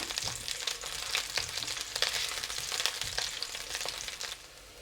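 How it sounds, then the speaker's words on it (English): Sliced ginger frying in oil in a pan for a stir-fried beef ramen: a steady, close sizzle with crackling pops and occasional scraping as the pieces are stirred, no voices. "We'll fry them until they are fragrant and you can actually see a little bit of brownness on the sides of the ginger."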